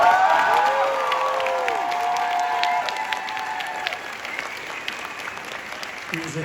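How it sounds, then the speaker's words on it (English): Audience at a New York Comic Con panel for The Expanse applauds the cast, a steady wash of clapping with some cheers, while voices talk over it near the start. "Can we have a little round of applause for this amazing cast?"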